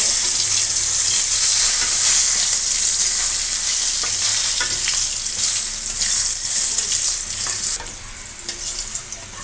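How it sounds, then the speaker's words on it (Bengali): Sliced pointed gourd (potol) sizzles steadily in hot oil in a pan, a loud, continuous frying hiss with occasional stirring scrapes and no talk. "প্রায় পটল ভাজিগুলো হয়ে এসেছে"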